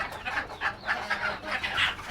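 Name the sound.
desi chickens clucking on balcony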